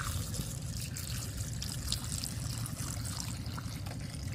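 Water pouring steadily outdoors by a lake during cooking, a continuous close splashing trickle for several seconds with no talk.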